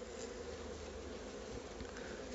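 Dense, steady buzzing of honeybees at an open hive during a varroa mite check, a constant close swarm drone filling the whole moment with no voices.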